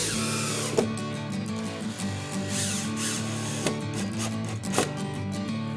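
A power drill drives screws through a drywall repair patch into the backing support and stud, a loud steady motor whine with brief surges and dips as each screw bites, close up with no talk.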